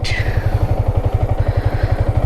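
A motorcycle rides along a road, its engine giving a close, steady, rhythmic low thrum that throbs evenly throughout with no voices.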